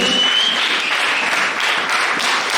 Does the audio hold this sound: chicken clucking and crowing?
no